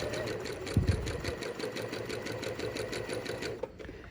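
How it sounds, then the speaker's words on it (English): A sewing machine stitches a 5/8-inch shirt tail hem on a top in a steady, close, continuous run of rapid needle strokes with a low motor hum, alone without talk. "Now I'm going to stitch a little bit further because I want to show you what happens on this particular top."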